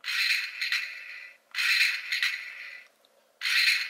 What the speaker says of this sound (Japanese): 一応射撃音かな